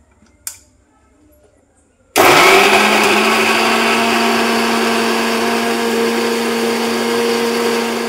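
A kitchen mixer grinder switches on after a quiet stretch with a faint click, then runs as a loud, steady whirring motor drone close by for several seconds.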